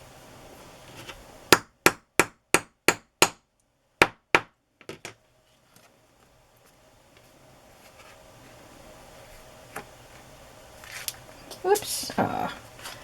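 Hammer blows set an eyelet through fabric in a journal-crafting session, about nine sharp, evenly spaced taps in quick succession, followed by quieter handling noise and a voice speaking.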